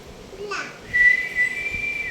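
A child imitates a pressure cooker whistle with a short breathy rising note, then a sustained, fairly loud high whistle that wavers and holds.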